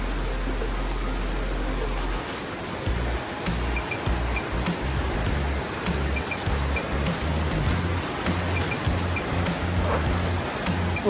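Water rushing at Ezharakund waterfall in Kannur, heard as a continuous dense hiss of flowing water that stays fairly loud and steady throughout, with a low hum at the start and no talking.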